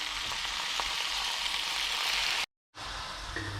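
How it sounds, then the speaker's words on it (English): Bacon fries in a pan with a constant close hiss and crackle of fat, broken by a brief cut to silence before the sizzle returns. "now going to start cooking off this bacon"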